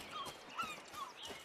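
A horse's hooves clip-clop lightly in the Western video game Rustler, a faint, quick irregular patter with a soft whinny-like trace, fairly distant and alone.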